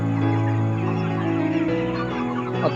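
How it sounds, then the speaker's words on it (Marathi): A large flock of chickens, about 3,500 birds on a poultry farm, clucking together in a steady, dense chorus, close by and continuous, with no voices. "हा माझा साडेतीन हजार कोंबड्यांचा"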